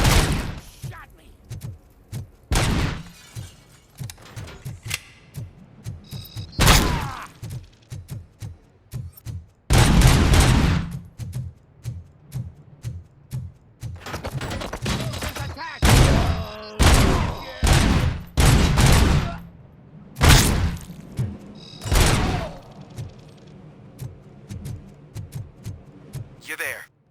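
Gunfire in the video game Robocop: Rogue City comes in loud, repeated bursts and single shots scattered across the stretch, mixed with game sounds and voices.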